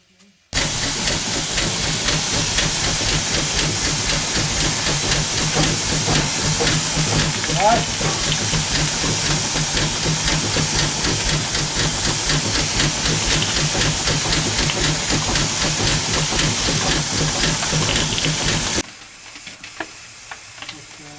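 Steamroller boiler blowing off steam through its safety valve at 250 psi during a hot test, a loud continuous roaring hiss lasting about eighteen seconds before cutting off abruptly to quiet.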